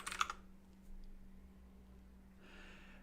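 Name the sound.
typing on a loud clicky computer keyboard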